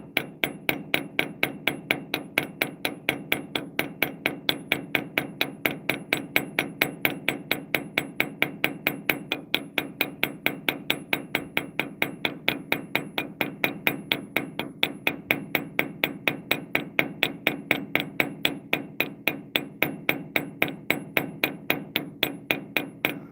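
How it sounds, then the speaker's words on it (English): A hammer strikes a leaking nitrogen fitting over and over, peening the metal to seal the hole; sharp, evenly spaced blows ring out loud and close in a fast steady rhythm throughout, with no talking. "if I can hit it enough times, maybe it'll seal the hole up"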